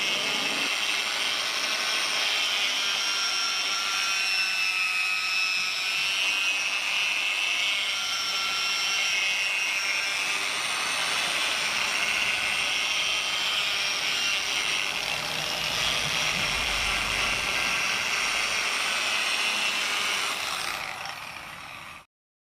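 A polishing machine runs steadily, compounding the paint on a 2019 Honda Unicorn motorcycle during detailing. A loud, continuous whirring drone holds for about twenty seconds, then cuts off at the end.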